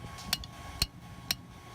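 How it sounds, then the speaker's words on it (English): A hammer strikes hot metal to taper a blade edge during backyard forging, with three sharp ringing blows about half a second apart, close and clear. "I'll strike that more with the hammer to get a little bit of a taper going down toward the edge"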